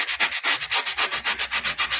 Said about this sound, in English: I want to make sure those corner edges are nice and sanded